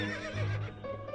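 A horse in the video game To The Moon gives a short, clear whinny with a wavering pitch, close and fairly loud, lasting about a second with no talk over it.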